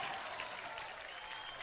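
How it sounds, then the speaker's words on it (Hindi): An audience at the Filmfare awards show claps in a dense, sustained burst of applause that carries at a steady level for the whole moment, with no clear speech over it. "एक बार जोरदार तालियां हो गए"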